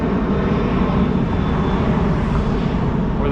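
Airplanes at a Dallas airport beside a state highway, a continuous broad engine roar from aircraft taking off, steady and loud for the whole stretch with no talk over it.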